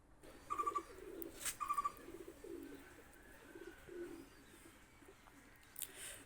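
Pakistani high flyer pigeons coo in faint, short bursts, a few close together early on and then sparser calls, against a quiet background.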